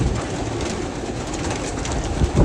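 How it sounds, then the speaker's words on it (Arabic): Pigeons at a large pigeon farm, a dense, continuous flutter and cooing close around the listener with no voices. "الحمام اهو، ادينا ماشيين والحمام ورانا اهو اهو"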